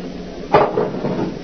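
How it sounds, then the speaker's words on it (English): A door lock clicks and rattles open in a tense radio-drama scene, one short metallic clunk followed by a few softer scrapes over a low room hum, close and fairly quiet, with no voices. "It's opening the lock."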